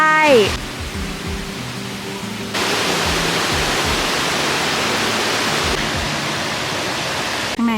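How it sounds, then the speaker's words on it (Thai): Steady rushing water from a waterfall and stream at Khao Yai roars continuously, broad and loud, with a voice speaking briefly at the start and end. "เจอน้ำตกแล้วเล่นน้ำได้"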